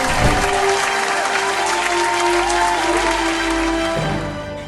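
Audience on a gospel singing competition show bursting into loud, sustained applause after a judge awards points, a dense even roar of clapping with a steady musical tone beneath, fading slightly at the end.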